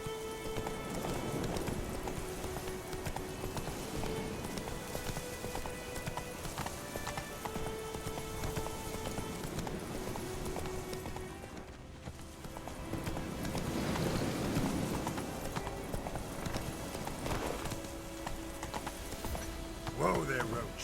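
Hooves of a horse in The Witcher video game clop in a steady, continuous rhythm for the whole stretch, over game ambience with light rain, while someone talks intermittently.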